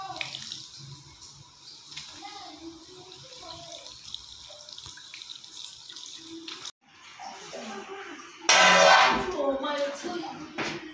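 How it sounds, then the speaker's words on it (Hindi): A child washes clothes at home, sloshing and splashing them in water, with running-water and tap-like sounds throughout; louder splashing comes near the end while an adult talks intermittently. "आप सीख गया ड्रेस वॉश करने का?"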